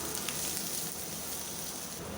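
Spices and cumin seeds frying in a small amount of oil for a Bengali fish-head and potato dish, giving a steady, dense, close sizzle that runs unbroken and loud with no talking.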